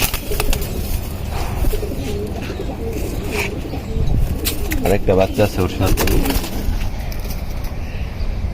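Silver-line pigeons, including a young squab, coo in a home loft, soft repeated coos running steadily beneath someone talking nearby.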